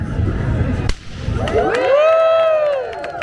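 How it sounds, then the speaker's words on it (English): A street performer's whip snaps once with a sharp crack at an outdoor pedestrian market in Toronto, and a crowd answers right away with rising whoops, cheering and clapping. "When I crack my whip, you guys clap and cheer."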